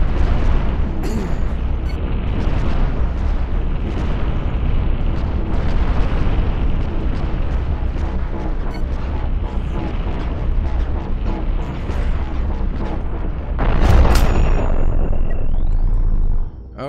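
Spaceship cannon fire and explosions in the Cosmoteer game form a dense, loud barrage of booms and blasts, with a heavier burst near the end before the noise drops off.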